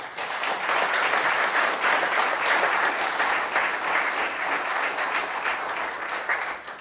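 Sustained audience applause for a panel at a Fermanagh GAA club event, thick continuous clapping from a full room, loud and steady for the whole stretch.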